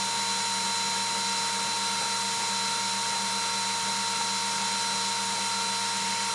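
Laser cutter machine cutting nutcracker parts: a steady, loud hiss-like whine with constant tonal hum, unbroken across the whole stretch, no talking.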